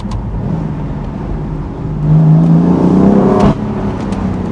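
A nearby BMW M4 convertible (F83) engine rises in a loud rev, then cuts off sharply with a crackling exhaust pop before settling back to a lower drone.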